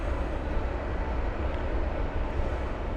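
A train rolls past with a broad, steady low rumble and rushing noise, fairly loud and continuous throughout with no voices.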